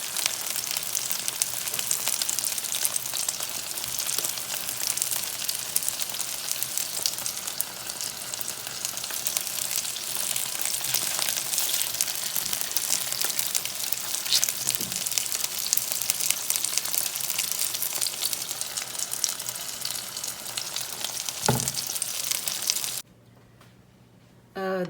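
Emperor fish fry in hot oil in a pan, a loud, steady, crackling sizzle that runs unbroken for over twenty seconds before dropping away abruptly near the end.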